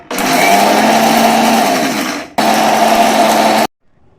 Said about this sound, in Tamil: இதெல்லாம் சேர்த்து இப்போ நான் பவுட்ரு பண்ணிக்கிறேன்.